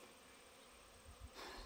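Honey bees in a second, newly introduced hive hum in a faint, steady buzz close by, with a brief louder rustle near the end.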